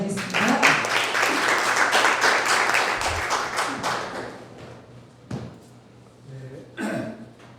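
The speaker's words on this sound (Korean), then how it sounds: "큰 박수로 맞이하겠습니다" Audience applause greeting an economics professor emeritus at a commemorative lecture hall event, dense clapping for several seconds that thins out into a few scattered claps and thumps.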